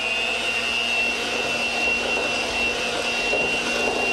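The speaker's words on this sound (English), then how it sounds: "let's start on beating them" An electric mixer beats egg yolks with sugar, giving a loud, constant motor whir with a steady high-pitched whine, even and uninterrupted throughout, with no voices.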